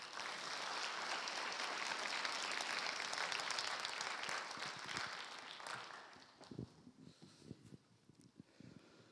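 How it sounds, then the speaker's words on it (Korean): A chapel congregation at a Methodist theological seminary applauds to welcome a pastor, sustained dense clapping that fades out after about six seconds, leaving scattered faint clicks and shuffling. "우리 김동환 목사님 나오실 때 우리 큰 박수로 환영하겠습니다."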